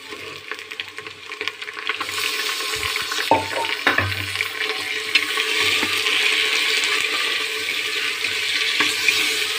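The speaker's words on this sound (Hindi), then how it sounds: "अब इसमें मैं ये गोश्त डाल दूँगी।" Meat added to onions frying in a pot gives a steady, loud sizzle that builds and holds, with a few clatters and stirring scrapes early on.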